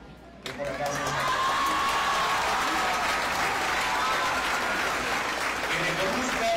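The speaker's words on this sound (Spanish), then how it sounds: "Que reconozcan y que aplaudan" An audience at a municipal recognition ceremony breaks into sustained applause that swells quickly and holds steady, with a few cheers and whoops, while a voice speaks faintly over it.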